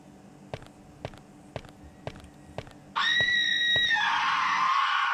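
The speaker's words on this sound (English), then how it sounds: "What was that scream?" A sudden loud, shrill scream erupts in a horror video game after several sharp, evenly spaced footstep-like clicks over a low hum, holds for about two seconds and then trails off.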